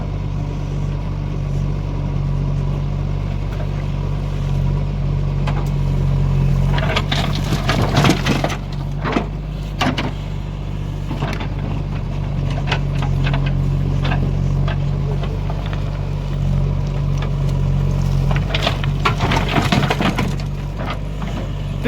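Tractor engine running steadily through loading work at a JCB construction site, a low continuous drone with scattered clanks and scraping bursts from the loading overlaid.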